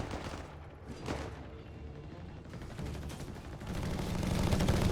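Machine gun and battlefield gunfire in Company of Heroes 3, a DAK versus USF match: rapid bursts and scattered shots with distant booms, building toward a denser barrage at the end.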